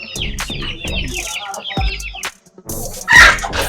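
A fighting rooster on a rooster farm clucks in quick, close bursts, then lets out a louder crow-like call near the end.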